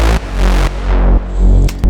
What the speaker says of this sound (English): Then I wanted this big, like, crazy synth.